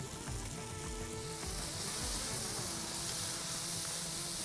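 Ground ginger, garlic and spice masala frying in a pan, giving a loud, continuous sizzle and crackle up close, with faint stirring scrapes beneath the steady hiss.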